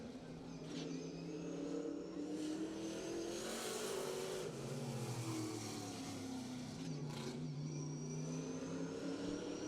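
A late model race car runs a lap at Rivet Raceway, its engine note rising and falling as it passes, revving steadily with a couple of quick swells, heard faintly and from a distance throughout.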